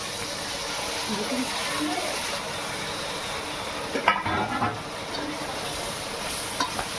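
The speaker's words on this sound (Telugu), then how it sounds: "ఈ కారం పసుపు ఆయిల్లోనే కొంచెం ఫ్రై చేసుకోవాలి" Chili powder and turmeric frying in oil in a pot for Telugu fish curry, a steady broadband sizzle with occasional stirring scrapes near the middle.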